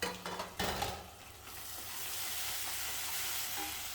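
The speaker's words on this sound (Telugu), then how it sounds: "ఆ తర్వాత టమాటా ముక్కలు కూడా వేసి వేగనివ్వండి." Tomato pieces fry with ginger-garlic paste in a pan for a mushroom curry. A few clattering stirs open into a steady, close, broadband sizzle that holds evenly to the end, with no talking.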